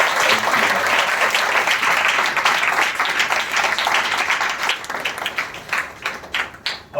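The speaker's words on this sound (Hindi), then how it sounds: "आइए हम उस जीवित परमेश्वर को ताली बजा के हम उसका स्वागत करते हैं।" A church congregation claps together at a Sunday service, dense and sustained applause that starts loud and thins out toward the end.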